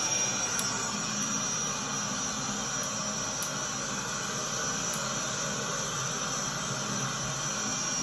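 Steady broadband engine drone of an aircraft in a flight simulator game played on an 85-inch home cockpit screen, a continuous even roar with faint hiss throughout and no voices.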